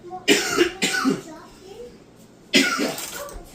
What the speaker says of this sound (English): he coughs like that on a regular basis. Obnoxiously loud.